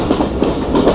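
Tungipara Express train pulling into Kushtia Court station, a close, loud rhythmic clickety-clack of wagon wheels over rail joints under a heavy rumble.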